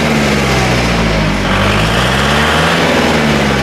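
A Kubota MU4501 four-wheel-drive tractor engine runs at a steady idle, a loud, even diesel hum close by with no talking.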